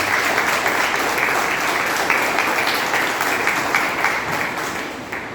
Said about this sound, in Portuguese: Uma linda salva de palmas para ele.